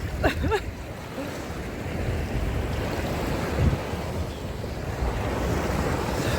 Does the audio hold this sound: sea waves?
yes